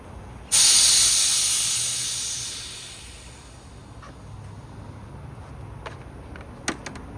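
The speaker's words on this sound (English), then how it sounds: "I'm gonna spray around the fence lines of this property" A garden pump sprayer nozzle opens with a sudden loud hiss of homemade weed killer spray that slowly tapers off, followed by quieter ambient noise and a few small clicks.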